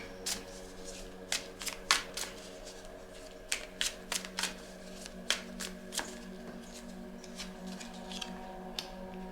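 Tarot cards being shuffled by hand, a quick run of crisp riffling snaps and flutters in uneven bursts, close and fairly quiet.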